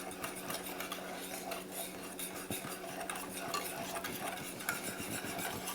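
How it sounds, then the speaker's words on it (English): A utensil stirs Jack Daniels BBQ sauce for oxtails in a pan, giving soft scraping and clinking strokes under a steady low background hum, close and fairly quiet. "So let's get that stirred up."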